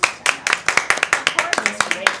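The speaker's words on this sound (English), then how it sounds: "I'd like to give you guys a round of applause" Clapping for students' music performance during a live NASA link-up with schools, a small group of hands heard as distinct, close, rhythmic claps in a quick steady pulse.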